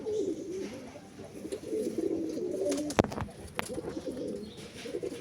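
Madrasi pigeons coo softly at close range in low, rolling phrases, with a few sharp handling clicks and knocks and faint talk nearby.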